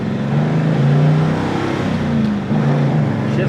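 A 1950 Mercury car pulls away and accelerates, its engine a loud, close, steady drone that rises in pitch and briefly dips before climbing again, with no speech over it.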